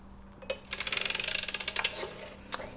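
A hand-cranked circular sock knitting machine turns one round, giving a fast run of about twenty sharp mechanical clicks, close and clear, with a few isolated clicks before and after.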